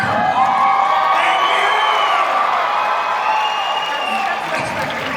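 A fan convention crowd at Galaxycon Richmond cheers and whoops loudly for a guest on stage, with clapping underneath. Excited shouting voices dominate the noisy, sustained crowd sound.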